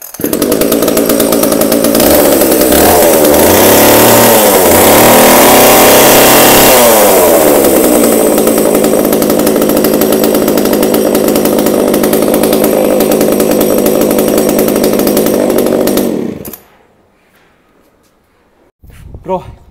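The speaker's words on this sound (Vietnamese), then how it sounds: "Em sẽ test nổ các bác nghe thử nhá." A used Japanese chainsaw engine fires up and runs loud and close with a buzzing two-stroke-style drone, settling and revving slightly, then cuts off abruptly near the end, leaving near silence and a brief clunk.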